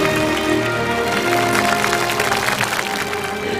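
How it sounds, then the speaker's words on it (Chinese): A TV show audience applauds in a dense, continuous wash of clapping with music playing underneath, loud and sustained throughout. "大家把掌声送给富豪。"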